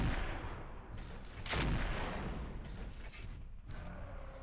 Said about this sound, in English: These auto cannons don't rock this guy as much as I need them to.